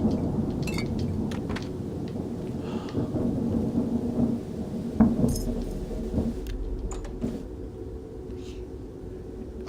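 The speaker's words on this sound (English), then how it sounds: "you must have heard that thunder then" Thunder rumbles through a storm, a low continuous roll with rain noise and scattered sharp crackles, building to a louder swell midway before easing off.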